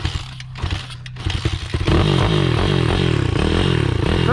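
A quad bike or pit bike engine revving hard in second gear, a loud sustained buzzing roar with rising and falling pitch after some clatter and handling noise at the start.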